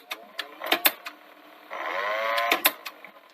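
Mechanism of a Sony HF100UB Hi-Fi Betamax VCR running noisily with a steady whirring hum for about a second, surrounded by sharp clicks and clunks from the transport, all fairly quiet and close.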